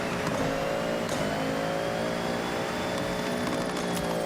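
Car engine in the Forza Horizon 6 racing game boosting hard, a steady sustained roar with layered harmonics holding loud and even throughout, with no talking.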